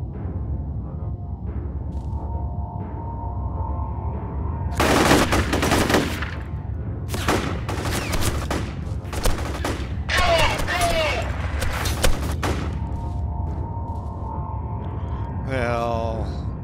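Bursts of automatic gunfire in the shooter game F.E.A.R. break out over a low steady drone, several loud clustered volleys of varying length separated by quieter gaps, with a short electronic warble near the end.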